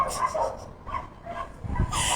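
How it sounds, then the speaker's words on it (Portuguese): A dog barks and whimpers indoors nearby in a few short yips spread across the moment, with background room noise between them. "Cara, tô incomodada com esse cachorro"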